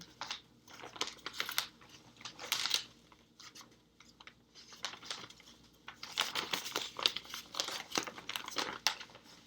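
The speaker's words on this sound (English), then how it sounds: "So I'm opening up the paper, page 7." Paper rustles and crinkles as a newspaper is opened and its pages turned, with a steady run of close, crisp rustling bursts that grow busier toward the end, and no speech.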